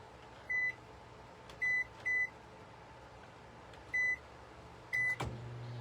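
A microwave oven set to heat a mug pizza for 50 seconds gives five short, clear electronic beeps at uneven intervals over a low, steady background hum.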